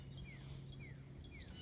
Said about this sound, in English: Shut up, birds.